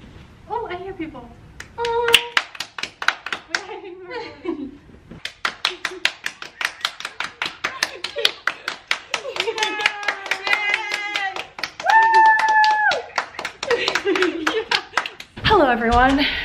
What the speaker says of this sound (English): We just clapped and cheered for the shift change of healthcare workers